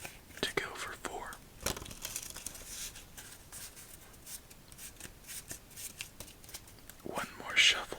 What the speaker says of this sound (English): One more shuffle, then game number 2.